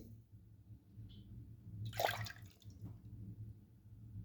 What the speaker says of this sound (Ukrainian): Коли осіло зерно, надбираємо сироватку.